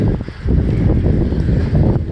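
Steady wind in a small Dutch town buffets the microphone with a deep, rumbling roar that rises slightly partway through, with no voices.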